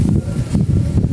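Strong gusts buffet the microphone outdoors in loud, low, rumbling bursts that rise and fall every fraction of a second, with no voices over the noise.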